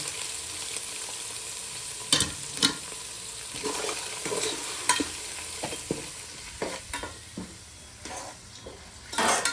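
A spoon scrapes and stirs ginger garlic paste through onions frying in a pan, with a continuous soft sizzle underneath and several sharper scraping strokes against the metal.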